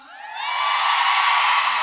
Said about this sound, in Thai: ขอเสียงกรี๊ดดังๆหน่อยได้ไหมครับ